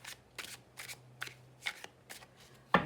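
A stiff deck of playing cards being shuffled, with several quick riffling bursts at a steady rhythm close by and a sharp snap at the end, no talking.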